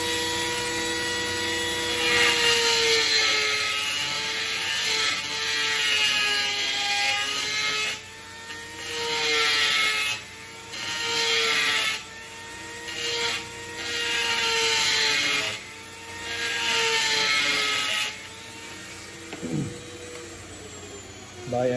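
A power tool grinds inside the mouthpiece hole of a Yemenite kudu shofar to enlarge it, a harsh whirring rasp that starts and stops in several bursts with short pauses between.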